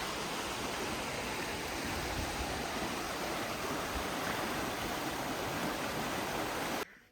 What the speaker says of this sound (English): I think this is Juneau Creek that goes over Juneau Falls